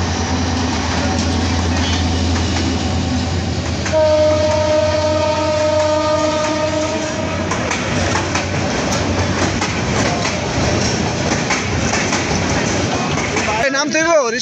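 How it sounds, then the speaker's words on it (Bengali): A train rolls past after heavy rain, a loud, sustained rumble with clickety-clack and a drawn-out horn-like tone partway through. Voices are heard nearby. "ট্রেন যাচ্ছে।"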